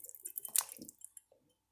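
Extra water or broth poured into a pot of chicken noodle soup made with home-canned chicken and chicken stock: a brief, close splashing pour with small drips that fades out after about a second.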